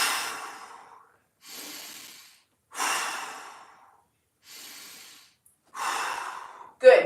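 Deep, slow breathing during a low-back mobility stretch: five long, close inhales and exhales with short silences between them, the last one ending in a brief sharp catch.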